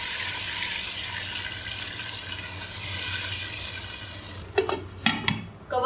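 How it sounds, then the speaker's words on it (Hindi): A glass of water is poured into a pot of browned meat masala for biryani, a steady rushing splash that ends in a few clattering knocks of metal cookware. "तो मैं इसके अंदर 1 गिलास पानी डाल देती हूँ और गोश्त को गलने के लिए रख देते हैं"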